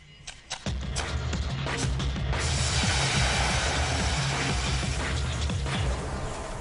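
Small rocket motors, one gunpowder and one aluminium, fire on test scales with a sudden ignition crack followed by a continuous loud roaring hiss that lasts several seconds.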